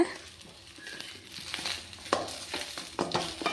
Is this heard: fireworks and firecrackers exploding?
no